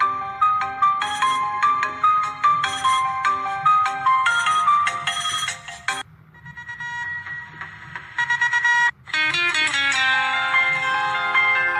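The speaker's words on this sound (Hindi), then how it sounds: "मैं आपको यहाँ से रिंगटोन बजा के दिखा देता हूँ" A ringtone plays from an Android ringtone app, loud and alone: bright, repeating electronic melodic tones in quick phrases, broken by a short pause and then a denser synthesized pattern.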